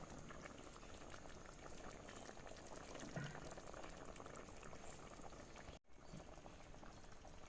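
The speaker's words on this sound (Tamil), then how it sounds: "இப்போ நம்ம ஆஃப் பண்ணிடலாம் ஸ்டவ்வை இல்லைனா அந்த சட்டி கொதிச்சுட்டே இருக்கும்" Fish curry bubbling steadily in a pot on a stove, a soft, constant simmering burble that runs for the whole stretch with one brief break near the end.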